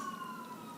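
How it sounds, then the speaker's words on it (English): A distant siren wails faintly and continuously beneath low background noise. "I don't know if you can hear sirens outside."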